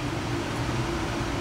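A home air conditioner runs as a steady, fairly loud broadband hum with a low tonal drone underneath, constant throughout with no break.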